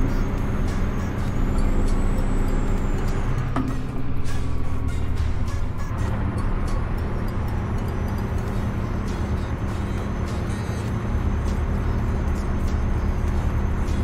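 A Jake brake on a Freightliner Argosy truck in American Truck Simulator, descending a 15% downgrade, produces a steady, loud low engine drone with a sustained rough rumble and a brief click partway through.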